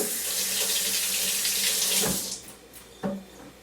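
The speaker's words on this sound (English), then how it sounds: "Now, I'm gonna rinse my fingers off." Fingers rinsed under a running kitchen tap, a close steady rush of water that cuts off partway, followed by a single knock as the tap closes.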